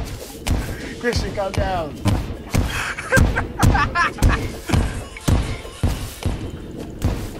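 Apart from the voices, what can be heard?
bombs exploding in Terraria video game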